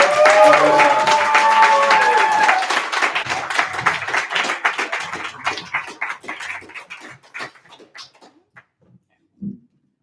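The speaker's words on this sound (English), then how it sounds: "give her a huge round of applause. Welcome her to the stage." An audience at a poetry open-mic night applauds to welcome a poet to the stage, the clapping loud and dense at first, mixed with voices, then thinning and fading out to scattered claps.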